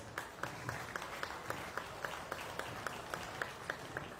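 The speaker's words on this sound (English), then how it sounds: "Let's give him a big round of applause" Spectators at a county fair swine show give a faint, distant round of applause, with a steady patter of claps and a few sharper beats carrying through the barn's background noise.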